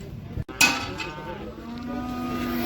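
Kazakh whitehead cows lowing at a busy cattle market, one long drawn-out moo starting after a brief gap and carrying on steadily to the end, with faint background bustle.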